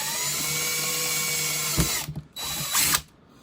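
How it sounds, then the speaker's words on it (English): A power drill whirs steadily for about two seconds, drilling a pilot hole on a vintage Honda CL350 motorcycle, then cuts out and spins up briefly again in short bursts before stopping. "Drill this bad boy out."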